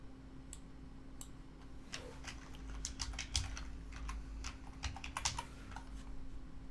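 Typing a login on a computer keyboard: a steady run of quick, irregular key clicks, close and moderately loud, over a low constant hum, with no voices.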